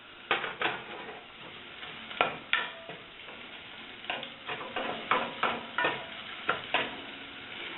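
Garlic and ginger sautéing in a pan, a soft steady sizzle broken by repeated sharp clicks and taps of a utensil stirring against the pan, close and fairly quiet.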